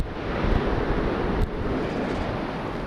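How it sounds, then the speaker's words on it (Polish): A volcano gives a deep, continuous roar that rumbles like a distant jet engine, broad and steady with slight surges, no voices. "A dźwięk wulkanu jest prawie taki jak silnika odrzutowego."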